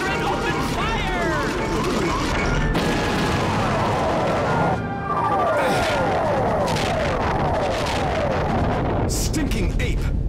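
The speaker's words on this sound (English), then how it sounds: "Stealth Squadron, open fire!" Stealth Squadron opens fire in the video game Star Fox Assault: a dense, loud barrage of laser blasts and rumbling explosions. Sweeping zaps and booms overlap continuously, and a brief lull comes near the middle.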